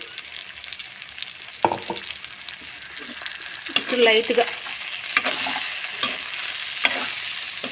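A spoon stirs fried eggplant with masala powder in a pan, giving soft scraping and clinking strokes over a light sizzle, with someone speaking briefly.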